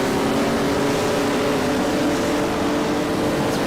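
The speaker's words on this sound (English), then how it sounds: "Actually, I can tell it's a Ferrari. You can hear that V12" A Ferrari 275 V12 engine in the rFactor racing game holds a steady, dense hum with a continuous broadband roar and no pauses.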